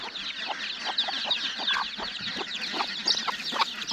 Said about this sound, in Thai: นี่เฮาสิมาให้อาหารไก่กันจ้า